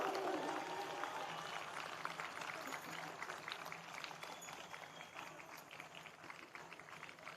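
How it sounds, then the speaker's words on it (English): Applause at a university convocation ceremony in Ahmedabad: a large audience claps steadily in a dense wash that fades slightly as it goes on, heard from a distance and fairly quiet. "please put your hands together for Patel Hetangi Vijay Bhai"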